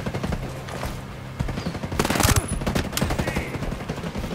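Rapid gunfire from the Ghost Recon video game, with dense bursts of automatic shots and loud reports peaking midway, heard close and continuous with faint talk underneath.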